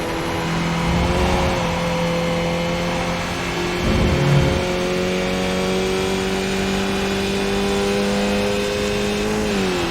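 Race car engine lapping Watkins Glen in a racing video game, a steady loud drone with sustained harmonic whine, holding pitch with a brief surge near the middle and a slight rise at the end.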